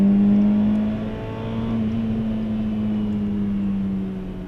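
Peugeot 206 S16 engine held at high revs near maximum power, a loud steady droning note that dips slightly then holds, heard from inside the car on a race circuit.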